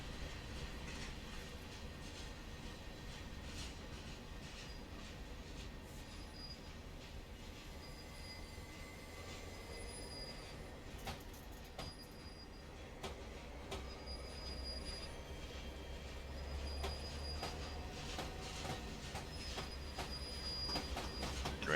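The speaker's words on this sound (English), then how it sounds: "the noises they make, the clunk, clunk, clunk, clunk, clunk of railway cars" Railway cars rumble and clunk steadily along the tracks in the video game Train Simulator 2020 during yard work, with faint metallic squeals now and then and no voices.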